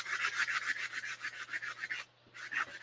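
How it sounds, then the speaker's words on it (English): A Dollar Tree sanding block rubs back and forth along the edges of a wooden pallet board in quick rhythmic strokes, close and clear, with one brief pause. "I'm going to use my sanding block from Dollar Tree that I love"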